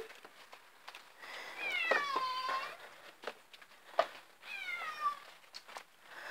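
Cats at a cat hotel meowing, two drawn-out, fairly faint meows a few seconds apart, with scattered soft clicks and rustling in a quiet room.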